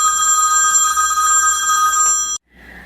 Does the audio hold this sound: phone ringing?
yes